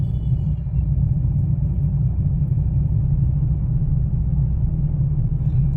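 A car engine rumbles steadily in fourth gear while driving on the road, a loud, low, even drone heard from inside the cabin with no change in pace.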